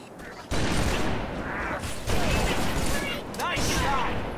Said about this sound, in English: See, there's a sniper rifle up here. Alright, all you have to do is just start sniping.